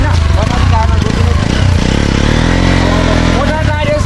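A motorcycle engine hums and revs close by on a fun ride in Gundu, Bhaktapur, Nepal, while people talk loudly over it.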